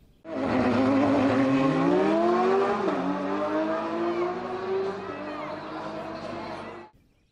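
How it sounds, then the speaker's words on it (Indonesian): A toy race car's engine sound revs in one long, loud, continuous whine that climbs, dips and settles before cutting off abruptly. "Mobil balap."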